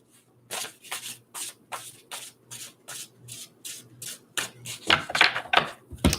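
A deck of tarot cards shuffled close up, with regular rhythmic riffles at roughly half-second intervals that build into a denser, louder flurry near the end.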